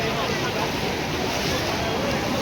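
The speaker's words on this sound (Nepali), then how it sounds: "पुरै ठाउँमा एकदमै गाह्रो छ यहाँ अवस्था पुरै पसलभित्रबाट पानी आइरहेछ" Floodwater from an overflowing river in Lalitpur, Kathmandu valley, rushes through streets and shops as a steady, dense, close roar with no break.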